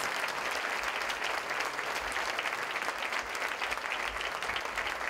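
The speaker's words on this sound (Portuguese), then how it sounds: "Então aplauda o nome do Senhor" A church congregation at an evening service applauds, a dense, steady wash of many hands clapping together throughout, loud and sustained with no pause.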